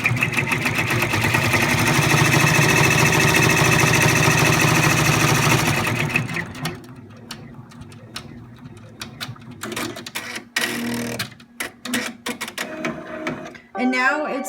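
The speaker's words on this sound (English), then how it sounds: "Now we're running the tack down stitch for our pocket." A sewing machine runs a tack down stitch to secure a fabric pocket on a fidget spinner project, a dense steady mechanical whir for about six seconds, then stopping into scattered quieter handling clatter and knocks.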